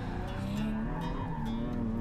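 A Nissan 370Z on an autocross course pulls hard in second gear as its rear end slides out, a loud, continuous engine drone with rising pitch and a faint tire scrub beneath it.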